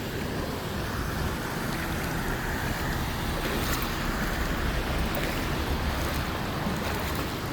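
Vehicles roll slowly through floodwater after heavy rain, a steady wash of churning water and wind-like rush filling the scene without clear engine detail.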